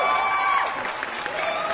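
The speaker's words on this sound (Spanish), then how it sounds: "Aplausos." A small audience gives brief applause, a short, steady wash of clapping heard at moderate distance.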